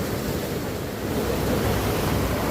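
Sea waves wash steadily at the Digha estuary where the Ganges meets the Bay of Bengal, a continuous broadband surf roar with wind across the microphone and no voices.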